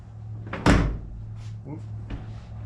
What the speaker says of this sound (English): Shut the door on it.